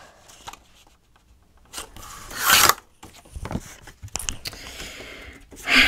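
Paper being cut while making a purse-size journal, heard as soft rasping scrapes and slicing strokes that come in short irregular bursts, close and quiet with no talking.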